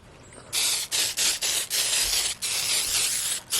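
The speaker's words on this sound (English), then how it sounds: "Then I think I'm going to spray this one more time with the spray glue." An aerosol can of spray glue sprays onto glittered heart decor in a quick series of short hissing bursts up close, loud and sharp, with brief gaps between each blast.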